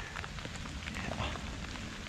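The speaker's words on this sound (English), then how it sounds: "It started raining" Light January rain falls outdoors on a trapping line ahead of a thunderstorm, making a brief, even, faint hiss with scattered patter and no talk.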